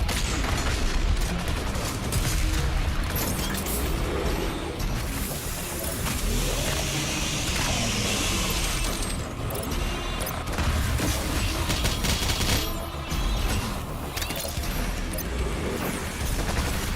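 Dense, continuous barrage of booming missile explosions and gunfire in the video game Doom Eternal, loud and layered with rumbling blasts throughout and no pause.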